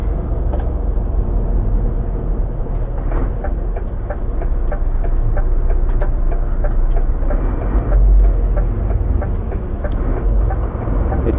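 Heavy, steady low engine drone from an underpowered articulated truck with a 9.5 litre straight-six making 310 horsepower, labouring continuously up a hill as heard from inside the cab, with no talk.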